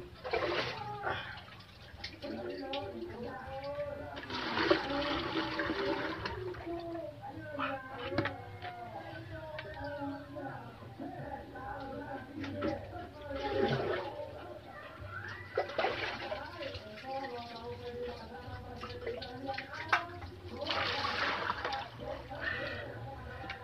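Water runs and splashes in a bathroom during bathing, a steady low wash with occasional sloshes, while someone talks over it throughout.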